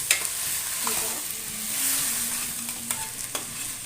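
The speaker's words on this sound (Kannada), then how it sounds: "ಎಣ್ಣೆ ಒಳಗೆ ಒಂಚೂರು ಬಾಡಿಸ್ಕೊಳ್ಳೋಣ ಹೆಸರು ಕಾಳನ್ನು" Sprouted green gram sizzling and frying in hot oil for a sambar, a steady bright hiss with a few small stirring clicks and scrapes, close and continuous.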